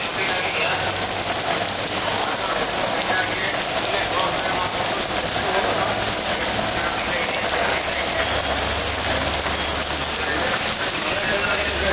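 Heavy rain pours down over the palace courtyard during a Dasara elephant rehearsal with a wooden howdah, a loud, dense and unbroken roar of drops on surfaces with faint voices beneath.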